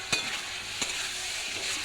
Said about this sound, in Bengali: একটু তেল ছেড়ে এসেছে, আমি এবার আলুগুলো দিয়ে একটু কষবো